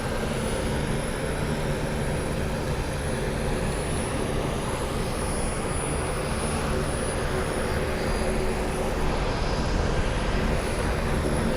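Aircraft engine in Microsoft Flight Simulator 2024 during a certification flight: a steady, unbroken drone with broad airy noise, holding constant throughout with no talk.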